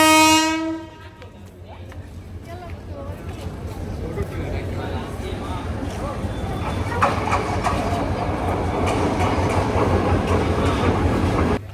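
A passenger train on the Bangladesh Railway line to Jamalpur sounds a short horn blast, then rolls on with a steady rumble and rhythmic clatter that grows louder toward the end.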